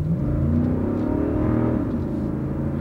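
A V8-powered car accelerates hard on a country drag strip. The engine's loud, steady roar and rumble stay close and continuous throughout, with no talking.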